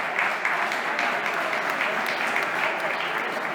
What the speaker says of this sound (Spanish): Exacto, un aplauso.